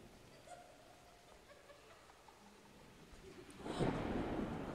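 Thunder rumbles in the horror game Shhh! Morgan's House, a low, rolling burst swelling loudly near the end after a quiet, faintly hissing stretch with no talking.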